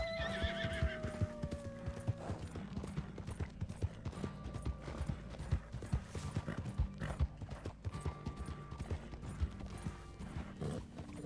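Horse neighs and hooves clop repeatedly in an online role-play video game, a whinny rising early on over steady, loud clip-clop rhythm that continues throughout with game ambience.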